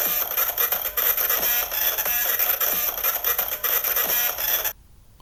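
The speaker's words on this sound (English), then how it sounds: "Printer-based song." Deltarune's printer-based song plays as a dense, rhythmic loop of mechanical printer whirring and clicking, with steady beats for several seconds before it cuts off abruptly into near silence.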